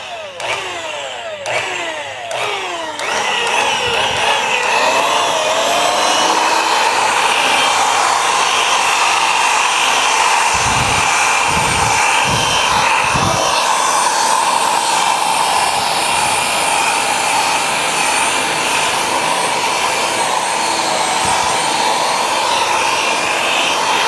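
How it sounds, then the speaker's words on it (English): A power buffer polishing original patina paint on a VW bus, a loud steady high whine running almost the whole time, with a few brief low thumps early and midway. "I'm just going to hit it with a little bit more material and then buff it again."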